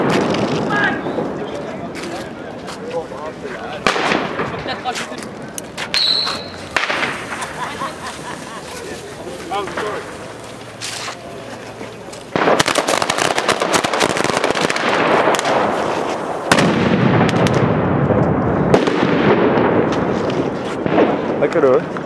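Firework salutes in Valencia go off in a rapid barrage of loud, close cracks and booms, with dense crackling and shouting voices mixed in throughout.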